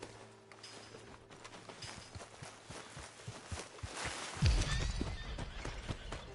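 A horse's hooves clip-clop and it lets out a whinny in the open-world Western video game Red Dead Redemption 2, with footfalls beating at a steady pace and growing louder toward the end.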